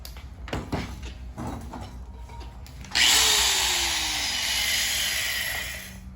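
A soapstone marker sharpened against a spinning power tool in a welding shop, with a few knocks and handling clunks first, then a loud sustained abrasive grinding whine that runs steadily to the end.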